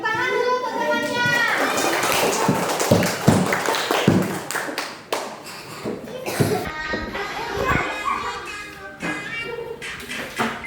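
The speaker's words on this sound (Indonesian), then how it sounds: "Tepuk tangan dulu untuk temannya." A group of young children in a classroom clap for a classmate, scattered claps and slaps mixed with lively chatter and shouts from the kids, fairly loud and continuous throughout.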